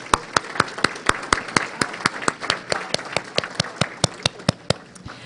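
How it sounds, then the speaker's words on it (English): A conference audience applauds hotel staff during a live business event, steady broadband clapping with many sharp individual claps standing out, sustained and fairly close throughout. "if I could ask you to give them a round of applause,"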